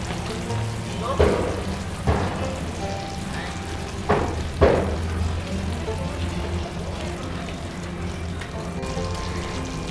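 Raw mango pickle mixed with spice powder in a pan, with occasional scraping and stirring strokes under a steady low sizzle, four sharper knocks of the spoon standing out.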